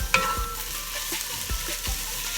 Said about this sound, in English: you just stir that around and let it cook for a little while